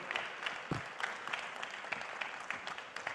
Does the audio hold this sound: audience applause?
yes